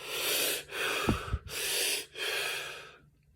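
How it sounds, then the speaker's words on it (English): A series of sharp, breathy gasping inhales, about four in a row, harsh and throaty, close up with brief pauses between them. "take the inhale closer to the back of the throat, more of a gasp"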